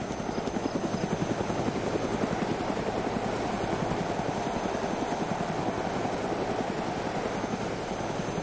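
DayZ video game helicopter rotor, a steady rapid thumping drone that continues evenly throughout at moderate volume.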